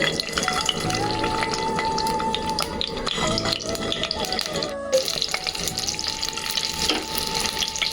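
Boiled eggs frying in hot oil in a pan, a steady bubbling sizzle with occasional clinks and stirring scrapes throughout, fairly close and continuous.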